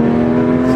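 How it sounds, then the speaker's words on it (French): A naturally aspirated car engine revs hard and steady at close range, a loud sustained tone with no talk over it. "Oh, ça, c'est rageur, hein, pour un moteur Atmo comme ça."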